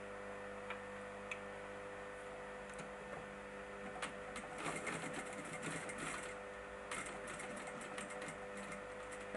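A sewing machine stitches voile curtain fabric with a steady motor hum and fast ticking needle strokes, a continuous mechanical run at close range with no talking.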